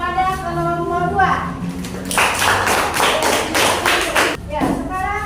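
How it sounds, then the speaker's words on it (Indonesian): A classroom group applauds a presenting team at a university teacher-training session, a burst of clapping from many hands lasting about two seconds, framed by a speaking voice before and after. "Kita berikan aplaus kepada kelompok 2."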